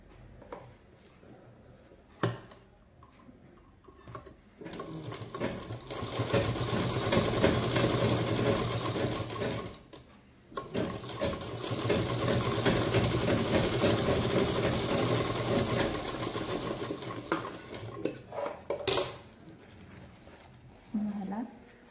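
Electric sewing machine stitching a fabric purse with a zipper, running in two long steady bursts of rapid mechanical whirring with a short pause between, and someone talking over it.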